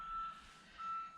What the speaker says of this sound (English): Do you guys hear the freaking car in the background? It's been freaking backing up for like 20 minutes now.